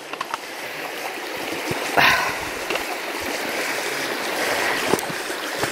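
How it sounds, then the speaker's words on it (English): Babbling brook flowing through a glen, a steady broadband wash of running water heard close, with a brief splash and a few soft knocks and footsteps. "The babbling brook."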